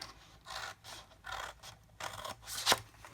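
Scissors cut a milk carton along its score line in a series of close, soft rasping snips, about five in a steady rhythm, with no talking.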